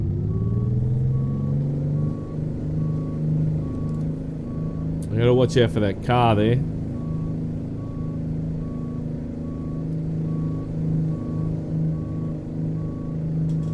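A Peterbilt 378 truck in American Truck Simulator reverses with a steady series of electronic backup beeps over a low engine rumble. Someone speaks briefly partway through.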